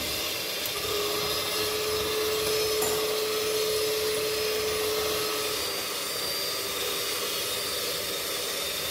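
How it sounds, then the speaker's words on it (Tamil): An electric hand beater runs steadily while whipping dalgona coffee mixture, a continuous whirring motor drone with a thin high whine, lasting throughout with no talk. "நான் என்கிட்ட ஹேண்ட் பீட்டர் இருக்குது, அதை வச்சு நல்லா பீட் பண்ணணும்"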